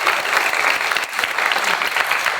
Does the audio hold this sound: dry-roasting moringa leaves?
no